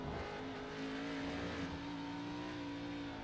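Race car engine in an ARCA Series playoff race at Watkins Glen, droning steadily at close range as its pitch sags slightly in a corner with little rise, with no voices.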